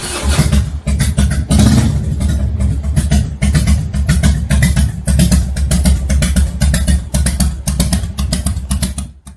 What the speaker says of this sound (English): Demonstrating low idle on a 2011 Road King.